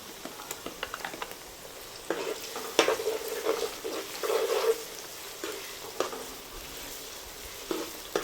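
Pieces of country chicken sizzle steadily in a hot pan while a spoon stirs them in repeated close scrapes and shuffles, with a constant frying hiss underneath and no talking.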